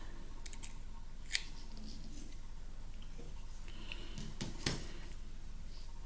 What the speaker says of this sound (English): So here we want to cut our yarn, and I'm going to leave somewhere between like 12 and 18 inches to weave in.